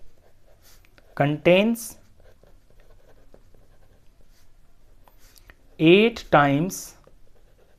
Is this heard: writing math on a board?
yes